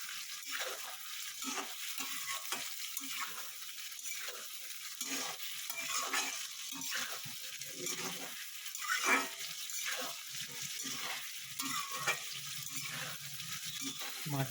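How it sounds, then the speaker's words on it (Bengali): Rohu fish pieces sizzling and frying in a pan with tomatoes, a steady broadband crackle running throughout with occasional stirring scrapes, close and moderately loud, no talk. "মাছগুলো দিয়ে এবার এটাকে একটু ভাজবো।"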